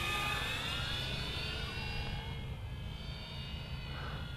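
Radio-controlled F4U-4 Corsair model airplane in flight, a steady buzzing engine whine with a sliding pitch as it banks and passes, moderately loud with some wind noise.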